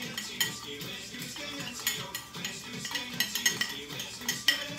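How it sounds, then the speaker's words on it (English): Stirring Whistle Pig Old Fashioned ingredients with water in a glass to dissolve them: a steady run of light metallic spoon clinks and scrapes against glass, close and fairly quiet, with no voices. "we're going to mix this together until everything dissolves"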